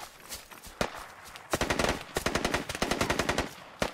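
Gunfire in the Squad military shooter game, a few scattered shots followed by rapid automatic bursts, sharp and close over about four seconds.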